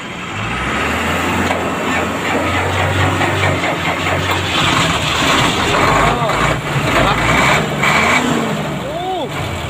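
A Hino FM1M truck's six-cylinder EM100 non-turbo diesel idles with a loud, steady rumble and a few air hisses; someone talks over the engine.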